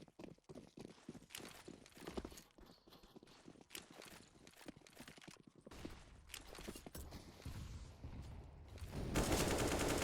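AK rifle fire in a Counter-Strike match on Vertigo, with sharp clustered shots and bursts throughout, growing denser and louder toward the end as the exchange of fire intensifies.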